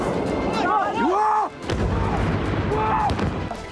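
Explosions from an Iranian missile barrage over a city, deep rumbling booms under rising whistling tones, heard at a distance with people speaking over them.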